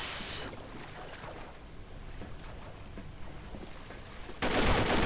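Dredge V2 gun firing in Combat Arms: a dense, steady stream of rapid shots runs at moderate loudness for several seconds, ending in a sudden louder burst.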